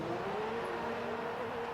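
Formula One car engine in the F1 2015 racing game, a steady high-pitched mechanical whine held at an even level with a slowly rising pitch, continuous and alone with no voices.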